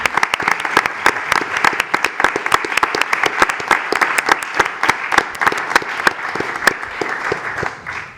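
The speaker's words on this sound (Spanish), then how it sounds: "os vamos a dar un aplauso súper merecido" An audience at the IGF Spain 2025 event rising for a standing ovation, loud dense applause with sharp individual claps throughout, tapering slightly at the end.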